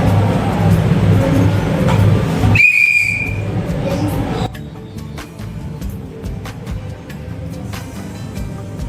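A whistle is blown once during games at a church Sunday class: a short, shrill, piercing blast cuts through the noisy room, which then falls quieter with scattered faint sounds.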